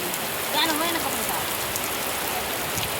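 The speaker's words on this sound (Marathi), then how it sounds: "कसा पाऊस चालू आहे मंडळी" Heavy rain pours over farmland in a dense, continuous hiss of drops striking surfaces nearby, steady and unbroken for the whole stretch with no clear voices.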